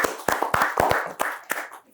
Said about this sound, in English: Yeah, clap it up for